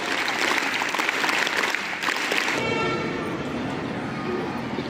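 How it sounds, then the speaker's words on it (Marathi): Loud, sustained applause fills a hall at a school annual prize-giving ceremony in Kolhapur, dense clapping that thins out after a few seconds. "जोरात टाळ्या वाजवूया"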